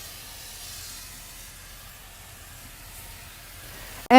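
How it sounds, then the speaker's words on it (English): A Resist hand sprayer sends out pressurized water for sandcarving cleanup as a soft, steady hiss lasting about four seconds, ending in a sharp click. "So now I'm just going to take my hand sprayer. It's my Resist hand sprayer"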